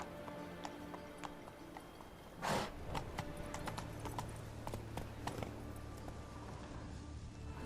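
Hooves of Geralt's horse Roach galloping in The Witcher 3, a steady, fairly faint rhythmic clip-clop throughout, with one brief louder whoosh partway through.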